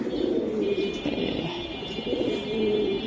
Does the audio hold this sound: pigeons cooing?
yes